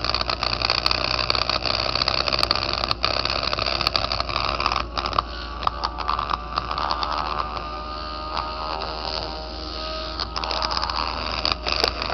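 A one-magnet Bedini motor replication's rotor spins up, giving a steady, close mechanical whir with faint clicking pulses and a constant low hum throughout, no voices.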